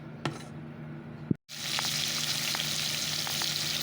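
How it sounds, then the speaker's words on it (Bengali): Fish rubbed with salt and turmeric fried in hot oil, a couple of sharp clicks, then a brief drop before a loud, steady hiss of frying with small pops takes over and continues alone. "চলো মাছগুলো ভেজে নিই অল্প অল্প করে"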